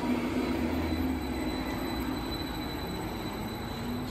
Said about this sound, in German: So, das ist jetzt der Regionalzug